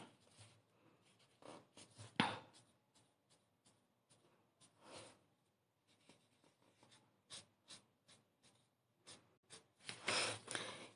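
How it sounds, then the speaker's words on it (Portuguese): Pen or pencil drawing a children's sewing pattern on paper, with quiet, close scratching strokes in short irregular bursts and pauses, a few louder scribbles, no voices. "deixa eu desenhar aqui"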